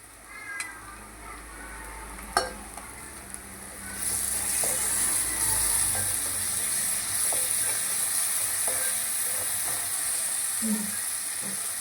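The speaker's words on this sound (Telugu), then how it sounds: "పేస్ట్ వాసన పోయేదాకా వేయించుకుందాము." Ginger garlic paste with turmeric fries in a pan over golden-brown onions for an egg curry. A few clinks are followed by a close, steady sizzling hiss that grows louder and continues.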